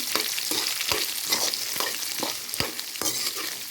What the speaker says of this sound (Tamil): நல்லா ப்ரௌன் ஆகிற வரைக்கும் நம்ம வதக்கி விட்டுக்கலாம் இந்த வெங்காயத்தை.